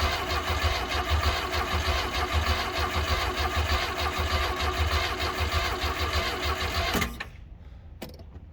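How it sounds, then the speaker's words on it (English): Outboard motor on a Glastron Carlson CVX-16 boat cranking over with a steady churning starter rhythm for about seven seconds, close and loud, then cutting off abruptly into near silence. "We're gonna crank the motor"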